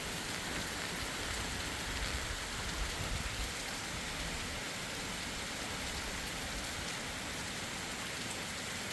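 Steady rain falls on a roof atop a large house, a dense, continuous hiss of drops holding an even level throughout with no voices.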